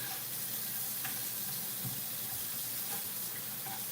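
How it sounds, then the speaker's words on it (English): Tap water runs steadily into a kitchen sink to rinse dirty potatoes, a constant soft hiss with faint splashing and no speech. "You want to wash potatoes because potatoes come out of the dirt"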